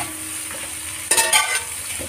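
Garlic shrimp cook in butter in a pan with a soft, steady sizzle, broken by a couple of brief, louder bursts of stirring or shifting in the pan, close by.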